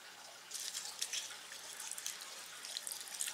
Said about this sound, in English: Let me see if I can rinse this perlite off so y'all can see better